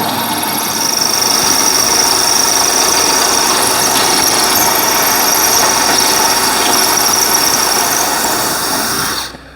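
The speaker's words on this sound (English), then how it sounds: "I've drilled through the tile now" A power drill bores a hole through a wall tile with a loud, continuous high-pitched grinding whine that runs steadily for several seconds. The drill is close, and it winds down abruptly at the end.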